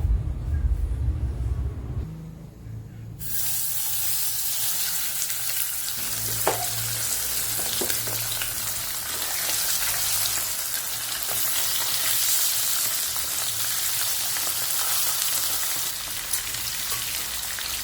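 Fish fries in coconut oil in a pan, the sizzle jumping up sharply after a brief quiet start into a loud, steady crackling hiss that holds close and constant with occasional pops.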